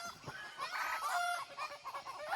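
Chickens cluck and a rooster crows in a rural Thai village setting, moderately distant calls overlapping in an irregular stream.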